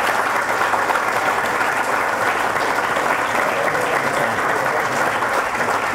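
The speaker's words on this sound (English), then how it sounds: "give my staff a big round of applause" A banquet crowd gives the staff a sustained, even round of applause, dense clapping filling the room steadily without pause.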